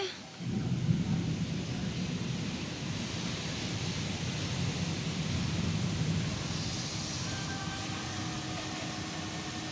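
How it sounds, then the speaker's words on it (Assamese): Strong wind roars steadily, kicking up dust, a dense low rumble with gusty buffeting throughout, loud and close. "দেখিছেনে পুৰা বতাহ ঢেৰেকণি মাৰিছে"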